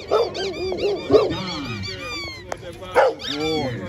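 Rottweilers barking at an outdoor dog show, with repeated loud barks, yips and whimpers from several dogs close by, mixed with crowd chatter and voices.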